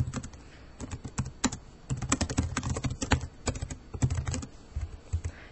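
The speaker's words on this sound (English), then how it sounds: "and I can begin typing" Steady typing on a computer keyboard, close by: rapid irregular key clicks in bursts with short pauses between them.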